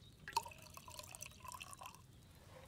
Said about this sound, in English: instead of holding E on the cauldron to pour, you hold E on the still here to distill.